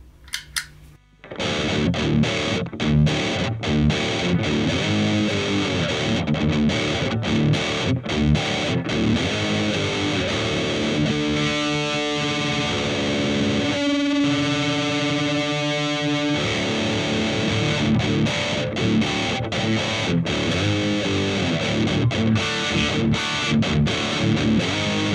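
A heavily distorted electric guitar through a Marshall amplifier plays a continuous, loud passage of chugging, percussive palm-muted riffs and sustained chords, dense and gritty from start to finish with no speech.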